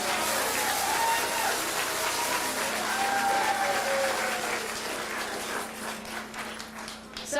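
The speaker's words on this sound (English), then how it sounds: "I think they all deserve a round of applause." An audience at a Purim stage show applauds in a steady, dense wash of clapping that holds at moderate loudness, then thins and fades slightly toward the end.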